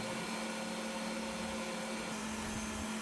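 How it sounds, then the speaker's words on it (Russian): An electric mixer whips chilled yogurt into a light soufflé, a steady, unbroken motor whine with a strong hum that runs at constant loudness for the whole stretch, with no talking. "Взбиваем довольно долго"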